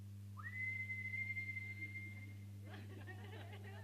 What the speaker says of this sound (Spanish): a nosotros nos enseñaron silbar para que venga el viento